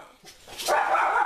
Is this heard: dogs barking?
yes